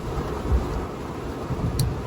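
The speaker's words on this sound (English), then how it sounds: "it's raining like crazy outside" Heavy rain pours outside in a continuous broad wash with low rumbling undertones, like distant thunder, steady and moderately loud with no speech.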